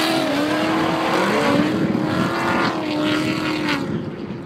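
Drift cars run together in a tandem on a track, engines roaring loud and close with shifting revs that rise and fall as they pass, fading slightly at the end.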